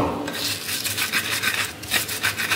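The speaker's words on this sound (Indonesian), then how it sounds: "Langsung aja aku mau ulek." Ulek, a stone mortar and pestle, grinding ingredients for sayur bening, close and steady, with repeated rough rasping rubs in an uneven rhythm and no voices.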